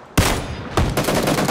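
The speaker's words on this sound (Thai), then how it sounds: "พี่สโคบยิงเลยเนี่ยมือเดียวด้วยปะ" Automatic gunfire in the PUBG battle royale game: a sharp burst begins abruptly, then dense rapid shots continue as loud, overlapping volleys to the end, with no talk over them.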